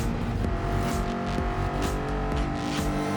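Ford Mustang GR.4 race car in Gran Turismo 7, its engine roaring loud and steady as it accelerates, with a dense, continuous note and slight rhythmic pulses from gear or throttle changes.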